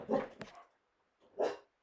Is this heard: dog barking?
yes